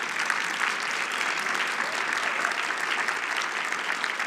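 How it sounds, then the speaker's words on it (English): Steady, dense applause from a conference audience, sustained evenly throughout with a broad hiss of many hands clapping at moderate distance. "one more big round of applause for these amazing leaders"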